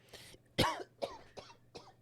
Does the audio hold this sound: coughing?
yes